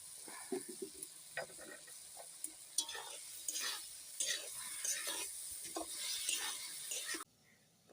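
Vegetables fry in a pan as mustard oil goes in, a steady sizzle broken by irregular stirring scrapes and clinks, close and fairly loud, with no talk over it; the hiss drops away abruptly near the end.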